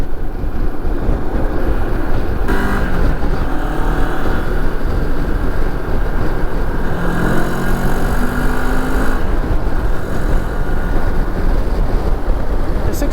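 A 2022 Moto Morini X-CAPE 649 motorcycle engine hums while riding around roundabouts, buried under heavy, constant wind roar with faint shifting engine tones throughout.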